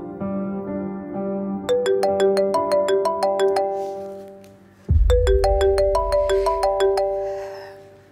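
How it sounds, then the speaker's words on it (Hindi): Telephone ringing on an outgoing call in a TV drama, a melodic ringtone of repeating chime notes that plays twice, loud and close with a brief pause between phrases. "फोन करके पूछ लेती हूँ।"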